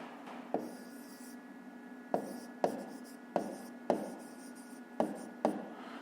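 Writing Ukrainian city names by hand during a fifth-grade math lesson, close pen or marker strokes with sharp taps and scratchy scribbles in short bursts, no speech over it.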